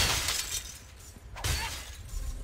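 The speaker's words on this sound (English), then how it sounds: "But back to smashing urns." Clay urns shatter in the action role-playing game Torchlight 2, with two or three crisp breaking-crash bursts in quick succession over the game's ambient background.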